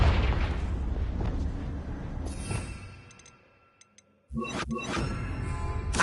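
Two bursts from a Confringo spell in the Hogwarts Legacy video game: a rumbling blast fades to near silence, a few faint ticks follow, then a second loud explosion erupts with a sustained roar.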